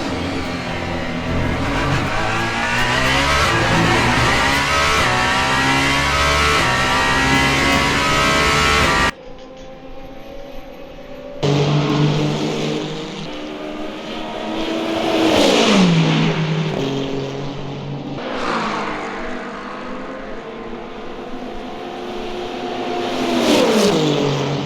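Race car engines roar in Le Mans Ultimate at the 24 hours of Le Mans, with a Toyota, a Porsche and the number 35 Alpine among the field. A dense, loud engine roar gives way after a cut to rising and falling revs as cars pass.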